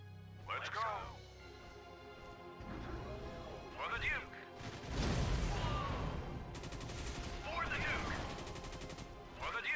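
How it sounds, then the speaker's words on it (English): Gunfire in the strategy game Emperor: Battle for Dune comes as several crackling bursts and explosive crashes, moderately loud, with someone talking over it. "Probably want to shoot those barrels there."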